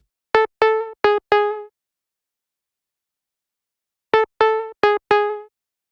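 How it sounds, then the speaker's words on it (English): A synth lead built from a sawtooth wave with a low-pass filter envelope, vibrato and reverb plays two separate phrases of four short, bright notes, each ending in a reverb tail, with a gap of silence between the phrases. "It's basically just a sawtooth wave with a low pass filter envelope over it, and then vibrato and reverb."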